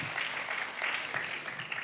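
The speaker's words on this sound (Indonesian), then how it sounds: "Coba semua yang setuju berikan tepuk tangan yang paling meriah untuk Tuhan." Congregation clapping in a church service, a dense steady patter of many hands filling the room, moderately loud and continuous with no voices over it.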